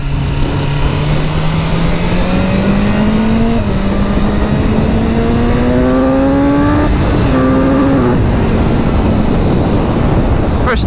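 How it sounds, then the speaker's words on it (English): An S1000R motorcycle on its standard exhaust accelerates hard through the gears. The engine note climbs repeatedly and drops at each shift, under constant loud wind rush. "For a standard exhaust, it sounds alright. Especially when you start opening it up."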